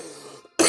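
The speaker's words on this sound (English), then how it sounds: "I apologize for this cough" A single short, harsh cough bursts out abruptly after a brief moment of quiet, close and fairly loud.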